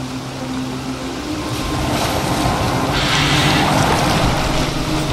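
Boat gliding across open water in Assassin's Creed Valhalla, a steady wash of water and wind that swells slightly partway through, continuous and moderately loud with no voices.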